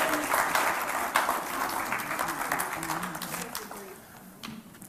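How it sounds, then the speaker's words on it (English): Church congregation applauding during a sermon, a dense, sustained wash of clapping that is loud at first and slowly fades over several seconds, with voices mixed in. "I'll give a great hand of applause."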